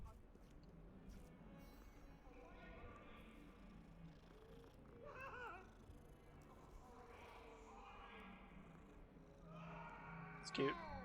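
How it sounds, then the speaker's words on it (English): A cat in the Hogwarts Legacy video game purrs steadily, then gives a few soft meows, with a voice talking over it and a brief sharp sound near the end. "Oh, it's a cat."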